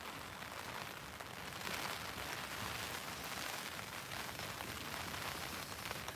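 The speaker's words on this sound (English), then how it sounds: "The loud noise is probably the rain. It's absolutely pouring down." Heavy rain pouring down at a riverside fishing spot on the Norfolk Broads, a loud steady broadband hiss that stays constant and dense throughout, with no talk over it.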